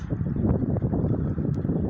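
Steady, roaring winter wind gusts blow continuously, driving snow into a blizzard, a dense rushing noise with no voices.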